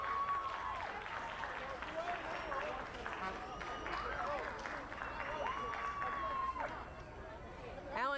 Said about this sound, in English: Let's give him a second to cheer.